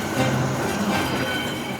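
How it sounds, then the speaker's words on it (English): Orient Express luxury long-distance passenger train rolling along the rails, a steady continuous rumble with faint wheel hum throughout, close and even with no voices. "created the most luxurious long-distance passenger train in the world. Voila! The Orient Express."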